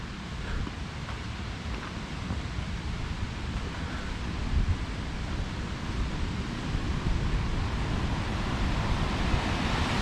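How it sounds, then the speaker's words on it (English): Rushing river water flowing through a small canyon on a forest hike in the Alpine Lakes Wilderness, a steady broadband roar that stays loud and continuous throughout with no talking. "Oh, I gotta show you the river."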